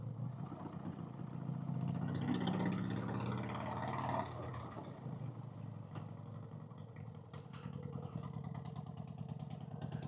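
A 1990 Harley-Davidson Fatboy with a newly installed S&S Super E carburetor idles high while warming up. The steady, close engine rumble is louder for the first few seconds, then settles slightly lower and keeps running evenly.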